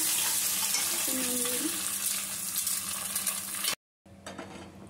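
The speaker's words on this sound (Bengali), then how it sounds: "ডিমও ভুজিয়া করে নিচ্ছি।" Egg scrambles in a frying pan with a steady loud sizzle and stirring, one short squeaky scrape midway, then a sudden brief gap before quieter sizzling resumes.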